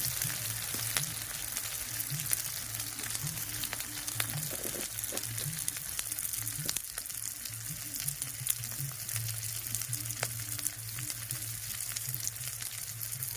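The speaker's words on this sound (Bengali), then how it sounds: "এবারে দিয়ে দেবো টমেটো কুচিটা।" Chopped tomato sizzles steadily as it fries in a hot pan, a loud continuous crackle with occasional stirring scrapes and no talking.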